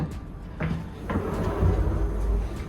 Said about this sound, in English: We'll open the doors to the outside.